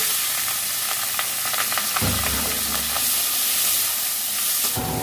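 Snails (gugli) frying in a pan with salt and turmeric, a steady broadband sizzle with a fuller, louder burst in the middle where the pan crackles harder, continuous throughout and close by.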